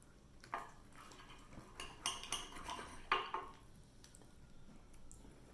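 A fork and knife cut into a Chicago-style pizza from Bacino's, making faint scraping and several light metallic clinks against a plate, clustered in the middle of an otherwise quiet stretch.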